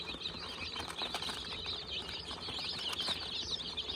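Young Kuchin chicks flutter and scramble about their pen, a continuous close patter of small wingbeats under a steady layer of high cheeping.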